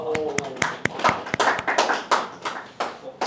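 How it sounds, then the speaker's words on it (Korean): Church congregation applauding, with sharp individual claps over a scattered, moderate patter, and a voice speaking under the clapping. "박수."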